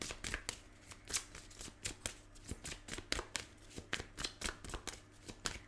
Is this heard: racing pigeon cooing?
no